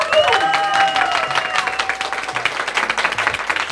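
Audience applause at an office award ceremony as presenters are invited forward, dense clapping from a room of people, with a sustained musical tone sliding underneath at the start and murmuring voices in the crowd.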